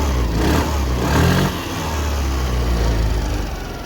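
A Suzuki Access 125 scooter with about 10,000 km on it runs steadily close by, its engine a continuous loud hum with a slight swell early on and no voices.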